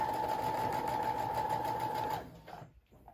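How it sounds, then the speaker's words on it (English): Close, steady whir of a sewing machine stitching the hood seam of a cloak for about two seconds, then the motor stops and only a few soft handling sounds follow. "So I'm going to start just by sewing up the center back seam of the hood."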